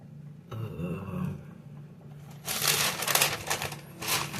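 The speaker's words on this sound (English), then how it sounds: "Why does it sound like not paper and like that weird rattly gift wrapping stuffing paper?" Crinkly, rattly gift-wrapping stuffing paper being rustled and crushed close by, quiet rummaging at first, then a loud, dense burst of crackling that keeps going in uneven waves.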